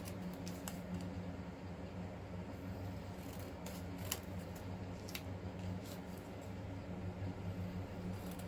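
Scissors fussy cut fabric in a quiet room, with soft snips scattered through a low steady hum and a couple of sharper clicks.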